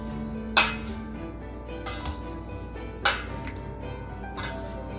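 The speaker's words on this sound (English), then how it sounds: "get some utensils to mix all this goodness" Utensils clinking against a bowl while mixing tabbouleh salad made with bulgur, a few sharp clinks spaced apart between soft scraping, close and moderately quiet.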